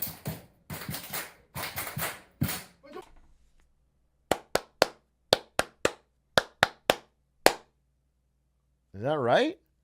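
A Japanese-style rhythmic clap to close a meeting or stream: after a burst of talk, a group claps sharp, close hands in repeating three-beat groups, ending on a single clap, followed by a short vocal whoop.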